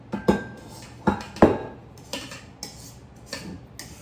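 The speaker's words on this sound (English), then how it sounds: "So you want to actually scrape down the sides of the bowl." A spoon or spatula scrapes down the sides of a mixing bowl of oatmeal cookie dough made with browned butter, giving about eight sharp clinks and scrapes at irregular intervals, close and fairly loud, with no talking.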